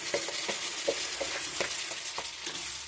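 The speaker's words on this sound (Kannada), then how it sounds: "ಸೇರಿಸ್ಕೊಂಡು ನೀಟಾಗಿ ಇದನ್ನು ಎಲ್ಲ ಕಡೆ ಮಸಾಲೆ ಹೋಗುವ ಹಾಗೆ ಫ್ರೈ ಮಾಡ್ಕೋಬೇಕು" Raw mango pieces frying in spice masala for pickle, with a soft continuous sizzle punctuated by regular scraping stirs of a spoon in the pan, close and unaccompanied by talk.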